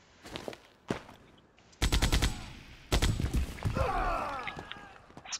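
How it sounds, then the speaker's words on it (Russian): Automatic rifle gunfire in Rambo The Video Game: several loud, close bursts of rapid shots separated by short pauses, with thuds and ricochet-like crackles trailing off between them. "Автоматик, прикольно."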